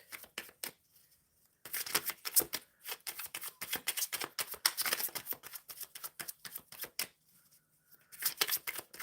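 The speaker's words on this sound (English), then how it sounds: "Shuffling for the collective energy." A deck of tarot cards is shuffled by hand in quick, crisp riffling bursts, close and clear, with short pauses between rounds of shuffling.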